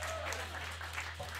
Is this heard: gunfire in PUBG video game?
no